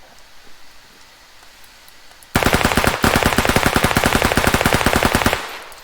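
An AK-12 rifle fires in the video game Squad with the Middle East Escalation mod: after a quiet stretch, a loud, sustained rapid-fire automatic burst of evenly spaced shots runs for about three seconds, then stops.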